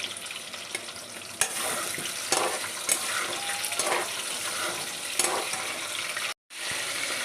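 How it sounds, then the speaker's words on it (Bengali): Potatoes fry in hot oil in a kadai with a steady close sizzle, broken by a few sharp stirring clinks and scrapes, before a sudden brief cut to silence near the end. "কড়াইতে তেল গরম হলে আলুগুলোকে ভালো করে ভেজে নিলাম"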